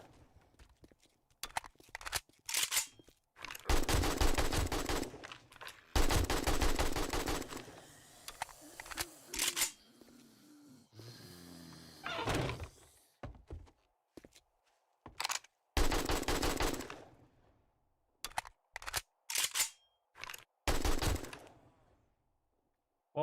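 Bursts of AK rifle fire from the 7 Days to Die video game, several rapid automatic volleys separated by pauses, loud and close, with quieter footsteps and clatter in between.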